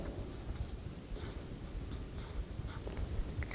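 Pen or marker writing a name on a children's Sunday school drawing of the fiery furnace, heard as faint, steady scratching strokes close by in a quiet room.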